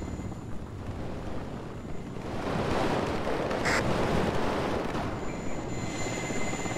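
Helicopters fly over a battlefield in the WARNO strategy video game, a rotor drone swelling louder midway and then holding steady, with no voices.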